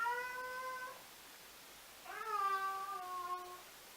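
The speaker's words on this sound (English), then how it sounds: "as you can hear, my cat has something to say to that too" A cat meows twice, a short call and then a longer drawn-out one after a pause, fairly close against a quiet background.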